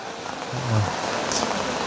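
Rain falling outdoors, a steady even hiss of drops with a soft low rumble underneath and no voices.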